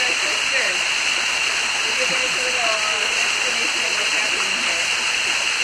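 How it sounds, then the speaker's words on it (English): Steady, loud broadband roar of the Piton Falls waterfall fills the whole clip without a break, with faint voices talking underneath. "at the waterfall"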